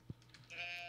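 A goat bleats in the farming game Stardew Valley, a short low call near the start followed by a brighter sustained game tone, with no talk.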